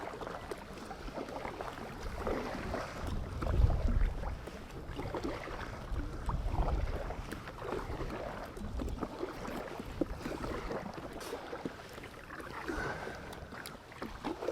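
Wind gusts across an open, exposed stretch of the River Ouse on the Fulford Road side of York, heard from a kayak as a continuous low buffeting rumble with faint water sounds and no talk.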